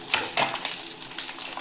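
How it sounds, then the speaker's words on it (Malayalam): Mustard seeds spluttering in hot oil for a coconut beef fry, a dense crackling sizzle with sharp pops scattered throughout, close and steady, with no talk. "കടുക് പൊട്ടിക്കുക"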